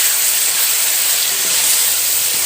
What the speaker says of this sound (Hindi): ये देखिए, ये बबल से बन रहे हैं और घी ऊपर आ गया।